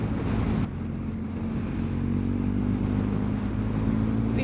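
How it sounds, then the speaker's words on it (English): A KTM and a Yamaha Tenere motorcycle ride by on a Sunday morning road in the Brecon Beacons, a steady close engine drone with no speech, over continuous wind rumble. "KTM and a Tenere out for a little Sunday morning ride."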